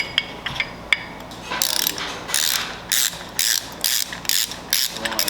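A turn signal extension is screwed in on a Harley-Davidson motorcycle, a 2026 Street Bob, with a hand ratchet clicking in quick close bursts that start and stop in a choppy rhythm, with no talking.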